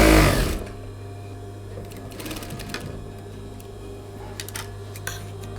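A sewing machine stitches a dress sleeve seam in a steady, close, continuous whirring run after a brief loud start, with a few light clicks along the way.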